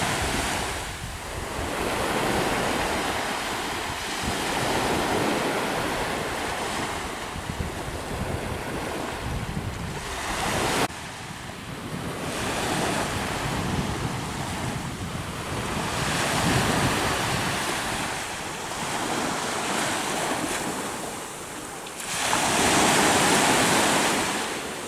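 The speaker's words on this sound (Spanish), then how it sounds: "Relajante el mar, muy relajante." Sea waves break and wash onto Playa Buena Vista, Los Cabos, in repeated surges roughly every few seconds, with wind buffeting the microphone between the swells.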